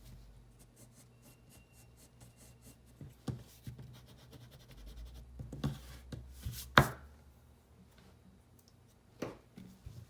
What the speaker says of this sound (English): We'll just erase the top part just a bit.